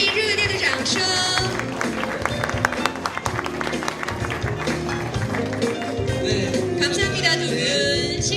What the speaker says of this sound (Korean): 致以热烈的掌声